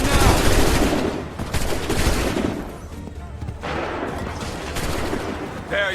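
A musket volley crashes in Assassin's Creed 3, with loud, dense overlapping gunfire that rolls on, dips briefly and then surges again.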